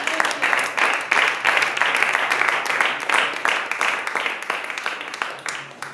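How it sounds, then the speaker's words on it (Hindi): Congregation clapping during a church service, a dense steady round of applause from a crowd lasting throughout, fairly close and even in loudness with no voices standing out. "क्या आप ताली दे सकते हैं?"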